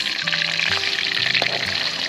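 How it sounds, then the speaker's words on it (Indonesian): Tilapia fries in hot oil, a loud, close, continuous sizzle and crackle with a few sharper pops and spatters, and no talking. "Goreng ikan. Ini lur. Ikan pertama masuk."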